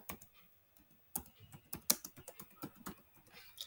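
Quick, crisp keystrokes on a computer keyboard, close and fairly faint, coming in uneven bursts with a few sharper clacks and short pauses, with no voice over them.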